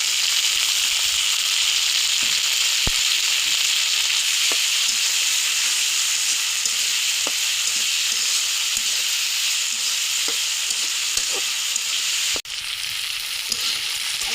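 Loud, steady sizzling of vegetables with peas and chopped tomato frying in a pan, with occasional sharp crackles and pops and a brief clatter near the end; no voices.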